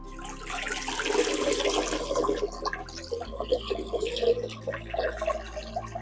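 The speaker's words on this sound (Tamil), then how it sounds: "ஃபர்ஸ்ட் வாஷிங் தண்ணியில போடுறேங்க" A pure cotton nighty of about 250 GSM is dipped and swished in a bucket of water, with sloshing, splashing and dripping sounds continuing for several seconds at moderate volume.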